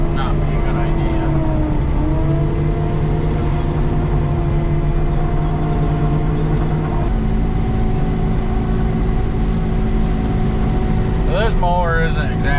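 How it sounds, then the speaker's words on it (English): A mower engine clearing rough farm land drones steadily and loudly the whole time, a constant mechanical hum with no breaks or changes in pace. "This mower isn't exactly made to particularly cut grass, you know, but it does it pretty well"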